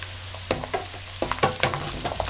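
Garlic sizzling as it fries in a pan with lightly browned onions, a steady frying hiss broken by several sharp stirring scrapes and clinks, close and moderately loud.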